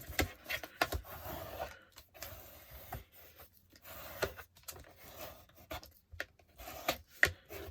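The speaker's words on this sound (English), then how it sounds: "you want to make sure you burnish it after you've put it on" Intermittent rubbing and scraping strokes as an applied piece is burnished down by hand, close and fairly quiet, in short irregular bursts.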